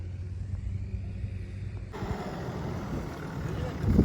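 A Lada Niva drives off-road with a low, steady engine rumble, joined midway by louder rattling and road noise that swells toward the end, and faint voices beneath.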